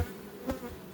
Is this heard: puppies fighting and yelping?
no